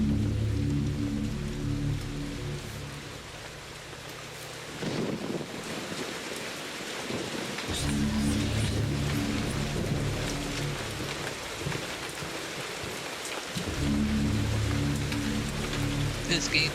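Rain and a thunderstorm in the horror video game Eternal Darkness: steady rainfall patters throughout, with low tonal game music swelling in and out beneath it and occasional rumbles.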